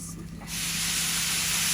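Hot water is poured into a pan of country chicken bhuna, and after half a second of quiet a loud, sustained sizzling hiss erupts and holds steady.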